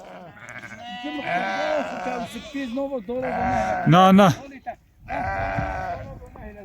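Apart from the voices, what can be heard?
lambs bleating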